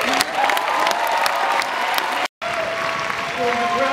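A graduation ceremony crowd applauds the class of 2011 with sustained loud clapping mixed with cheers and whoops, interrupted by a momentary dropout before the ovation resumes just as strongly.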